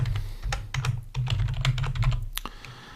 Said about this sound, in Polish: wybiorę hasło Andrzej